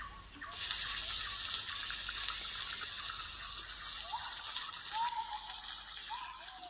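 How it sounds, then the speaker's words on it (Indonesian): A little water poured into a cooking pot outdoors in a garden, a steady close pouring gush that starts after a brief pause and runs continuously to the end, alone without talk. "Kita masukkan sedikit air ya."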